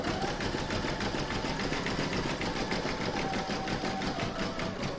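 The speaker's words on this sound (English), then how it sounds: "put your hoop back in your machine and stitch round number seven, and that's going to zigzag all the raw edges" An embroidery machine stitches a zigzag round over the raw fabric edges of an in-the-hoop mandala placemat, a steady, close mechanical whirring with fast even needle rhythm and a faint whine throughout.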